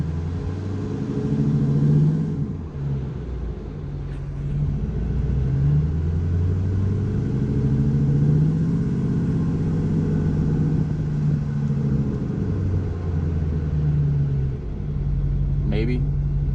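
Ford 6.4L Powerstroke diesel engine idling while warming up, a steady low rumble with slight rhythmic pulsing that continues unbroken for the whole stretch.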